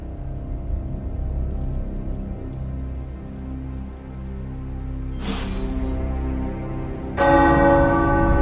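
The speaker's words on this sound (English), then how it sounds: "The tower bells are ringing." Tower church bells ring in Marvel's Midnight Suns video game, a sustained tonal peal with steady ringing harmonics, loud and continuous, swelling brighter near the end.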